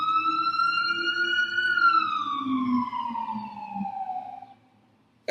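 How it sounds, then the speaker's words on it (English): A wailing siren passes close by a house, its pitch sliding down as it moves away and fades out. "there have been 5 deafening sirens screaming by my house"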